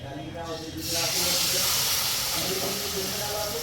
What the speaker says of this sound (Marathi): आता ह्याला मस्तपैकी सॉटे करून घेऊ